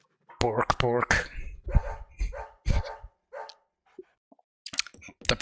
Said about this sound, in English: The bark sound effect is so low quality.